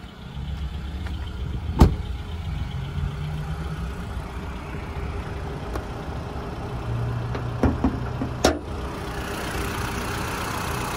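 A 2019 Mitsubishi Outlander engine idles with the bonnet open, giving a steady, smooth mid-low hum and a few faint clicks, with no voices.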